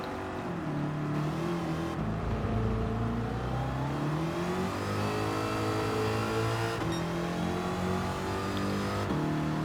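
A Corvette C2 Z06 race car with a roughly 5.3-litre engine revs and accelerates in Gran Turismo, its engine note rising and falling steadily and loud throughout with no talking.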